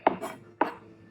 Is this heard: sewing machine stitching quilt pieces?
no